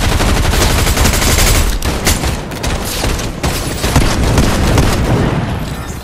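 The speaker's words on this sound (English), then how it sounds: "Oh my god, I'm getting shot at again." Rapid, dense gunfire from a video game crackles continuously at close range, heavy bursts and shots overlapping with brief lulls, loud throughout with no talking.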